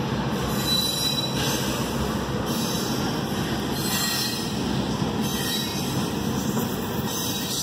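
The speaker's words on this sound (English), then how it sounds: "Short train." A short FEC rock freight train rolls past close by at a crossing, its wheels squealing in high sustained tones over a continuous rumbling clatter of rail cars.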